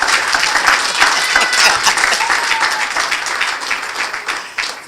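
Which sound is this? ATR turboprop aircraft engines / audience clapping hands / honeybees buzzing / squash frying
audience clapping hands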